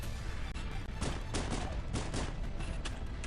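Dense, continuous gunfire and combat noise from the video game Halo: Combat Evolved, at Legendary difficulty, with rapid overlapping shots and blasts at a steady, moderate level throughout.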